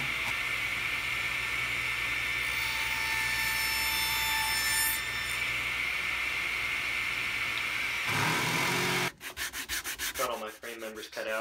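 A power saw cutting 45-degree wooden picture frame pieces on a sled jig, a loud, steady whirring drone lasting about eight seconds before cutting off into quieter rattling and handling noises.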